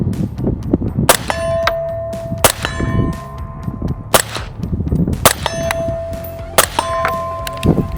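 A suppressed 5.56 rifle fitted with a 3D-printed suppressor fires six sharp shots outdoors at an irregular pace. Each crack is followed by a bright metallic ring that hangs briefly over a rumbling background.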